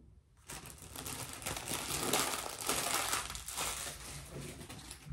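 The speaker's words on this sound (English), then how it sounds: "Sorry for all the crinkling" Floss packaging crinkles loudly and steadily close up after a brief quiet start, with dense rustling and crackling throughout and no talking.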